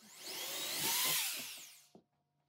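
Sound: drilling holes for laminar flow hood blower motor bolts

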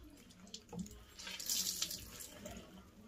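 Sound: running water from tap for washing face

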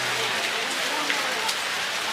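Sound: rain falling

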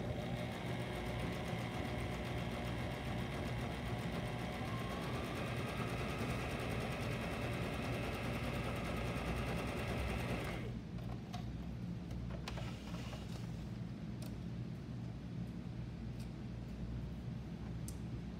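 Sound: sewing machine stitching a seam

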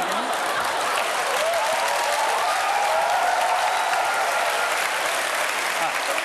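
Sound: audience applause

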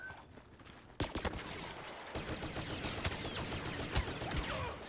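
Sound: blaster shots in video game Star Wars Battlefront

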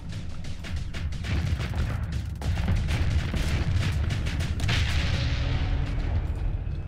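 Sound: ship explosion in the video game Starsector

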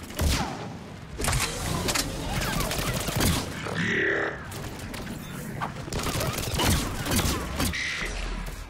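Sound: gunfire from the video game Mass Effect 3

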